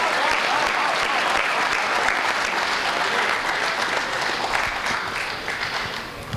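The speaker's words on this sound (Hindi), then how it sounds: "बहुत बढ़िया तालियां बजाई आपने" An audience at a Hindi comedy poetry gathering in Jodhpur claps loudly and continuously, a dense wash of applause that holds steady before tapering slightly at the end.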